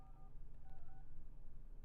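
Telephone keypad dialing tones, a few short electronic beeps in quick succession, faint against a steady low background hum.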